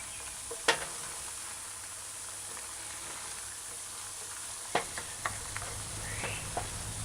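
Chicken pieces sizzle steadily in a pan for a broccoli stir-fry, with a few sharp clacks of a utensil stirring through them at intervals over the continuous frying hiss.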